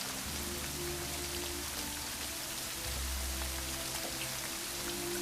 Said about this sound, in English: What, in this rain?